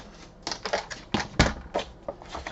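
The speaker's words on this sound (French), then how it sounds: "Alors, je vais couper 20 cm." Paper being cut to length with scissors for a handmade embellishment box, a run of crisp snipping and crunching strokes in uneven rhythm, close and clear, without talk.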